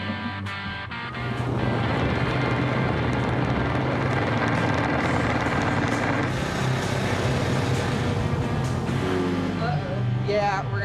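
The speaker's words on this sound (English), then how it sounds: "And we're gonna ride those ATVs," ATV engine while riding through a rough outdoor environment, a loud continuous buzzing drone with wind rush that swells and shifts pitch, close up with no break.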